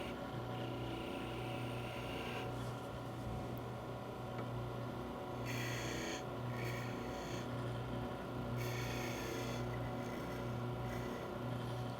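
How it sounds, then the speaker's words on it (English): A skew chisel shapes the point of a turned wooden Christmas ornament on a running lathe, giving a steady mechanical hum with bursts of brighter scraping and cutting noise partway through. "And then my skew chisel to shape the point as much as possible."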